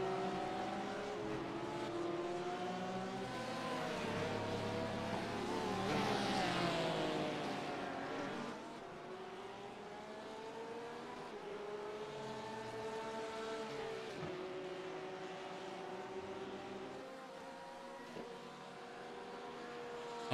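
A Porsche race car in a class race drives steadily with a continuous engine drone, rising to a louder swell midway before settling back to a sustained, even hum.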